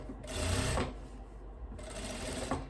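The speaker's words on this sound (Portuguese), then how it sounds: "E eu posso pespontar agora aqui o meu decote, ó." A sewing machine topstitches the neckline of a long dress with puffed sleeves, running in two close, steady bursts of rapid needle chatter with a short pause between them and no talking.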